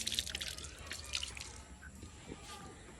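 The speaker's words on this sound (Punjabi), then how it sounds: "ਆਪਾਂ ਪਹਿਲਾਂ ਧੋਨੇ ਆ ਹੱਥ ਹੱਥ ਧੋ ਕੇ ਆਪਾਂ ਟੇਕਾਂਗੇ ਮੱਥਾ" Running water trickles and drips as hands are washed at a village dargah shrine, steady close splashing with brief faint voice underneath.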